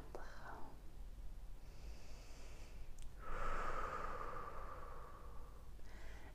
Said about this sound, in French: Prendre 3 grandes respirations pour nous détendre.